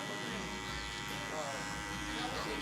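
Electric hair clipper buzzing close up during a mid fade haircut, a steady continuous hum that does not pause, with a voice speaking over it.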